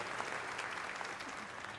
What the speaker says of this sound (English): give Hunter a big round of applause